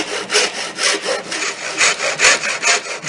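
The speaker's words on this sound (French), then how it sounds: "plusieurs coups de scie entre nos deux traits" A hand saw cuts through wood in quick, even back-and-forth strokes, each rasping pass close and clear, with no voices.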